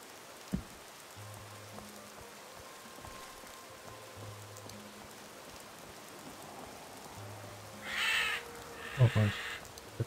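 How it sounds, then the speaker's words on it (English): Crows caw in the video game Gothic 2 amid a steady patter of rain, with a couple of short caws late on over the rain, and a voice speaking briefly. "Oh boy, the crows."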